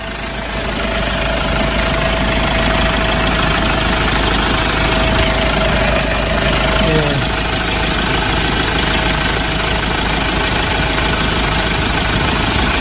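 A 2010 Hyundai H1 Deluxe van's 2.5-litre diesel engine idles close by, a loud, steady rumble with a rough knocking clatter that holds evenly throughout.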